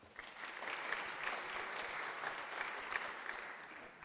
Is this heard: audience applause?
yes